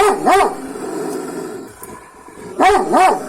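A Zaar dog growls and snarls in two bursts, deep rumbling barks near and loud, with a quieter grumbling stretch between them.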